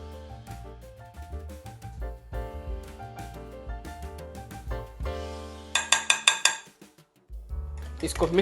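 Vanilla is mixed into whipped cream cheese in a bowl, with a utensil clinking and scraping against the bowl. Rapid louder clinks of stirring come in short bursts over a low, steady hum, and a voice talks in the background.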